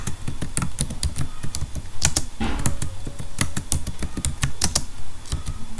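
Fast, close typing on a computer keyboard while writing a C program, crisp irregular key clicks in quick bursts with a few heavier thumps like the space or enter key, no talk over it.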